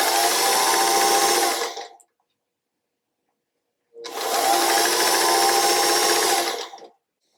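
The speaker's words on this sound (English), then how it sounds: "So I'm going to go ahead and sew these together, just one at a time." A sewing machine stitches jelly roll quilt strips in two loud, close bursts of fast whirring, each about two to three seconds long, separated by a silent pause.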